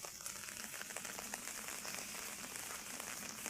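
Rain pours onto open water on a rural fishing trip, a dense, steady hiss of countless drops with no break, close and fairly even in loudness, with no voices.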